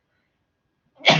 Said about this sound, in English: I sneezed in this video